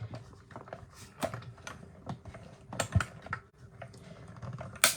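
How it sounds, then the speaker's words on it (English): Paper being cut as it is cranked through a manual die cutting machine, a close run of irregular crisp crackles and ticks, dense clicks with a few sharper snaps, and no talk. "You can hear the little crackling as it's cutting the paper."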